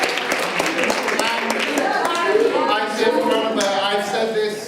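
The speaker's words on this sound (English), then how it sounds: "give yourselves a round of applause." A class of students claps at the end of a narrative publishing party, a loose scattered burst of applause mixed with voices and chatter around it.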